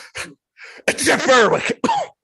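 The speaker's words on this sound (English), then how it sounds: "Excuse me, I got to sneeze." A person sneezes, with short sharp breaths and a forceful burst, then a brief vocal sound afterward, close to the microphone.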